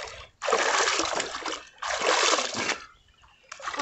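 Water splashing loudly in two long bursts with a short quiet gap between them, then a third burst starting at the end, heard close up outdoors at a rural country property.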